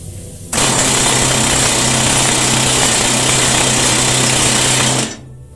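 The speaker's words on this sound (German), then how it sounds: "wie das ist mit so einem kräftigen Gerät zu bohren, tue ich es mal" A compressed-air rock drill boring in the Volle Rose show mine near Ilmenau starts abruptly and hammers in a loud, continuous rattling roar for several seconds, then cuts off.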